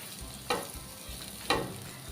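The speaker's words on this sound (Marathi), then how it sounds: "एखाद मिनटासाठी असं परतवून घ्यायचं" Spices frying in a pan for potato samosa filling, stirred with two distinct scrapes about a second apart over a steady low sizzle, close and clear with no voices.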